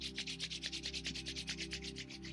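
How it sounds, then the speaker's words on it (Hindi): Both hands rubbed briskly together after sitting back in vajrasana during a yoga session, a fast rhythmic series of about twenty soft swishing strokes, close and quiet, with no talking. "फिर अपने दोनों हाथों को रब करें"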